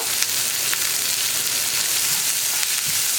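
Onions and curry leaves fry in a pan with a steady, close hiss and crackle, with a few faint pops and no voices.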